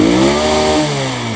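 A Honda Hornet motorcycle with a fresh spark plug fires up on the kick starter, its engine holding a loud, steady, close buzzing drone with no talk over it.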